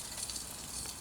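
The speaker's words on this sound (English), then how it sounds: "And that's frying lovely. That sizzle." Steady, crackling sizzle of chicken frying in hot oil at a wild camp, close and continuous with no voices.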